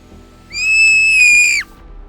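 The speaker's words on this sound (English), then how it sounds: "the rest of the group hears a loud scream" A single loud, high-pitched scream used as a sound effect in a children's mystery story, rising sharply, holding steady for about a second, then cutting off abruptly, with no other sounds around it.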